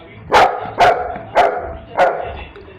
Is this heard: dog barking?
yes